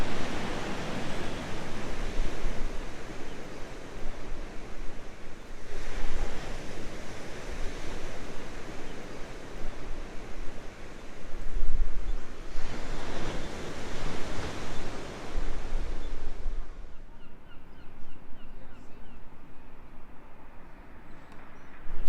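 Surf rolls onto Tenby South Beach at high tide, a broad roaring wash of breaking waves swelling and easing in long surges, with some wind buffeting the microphone before it drops to quieter water near the end.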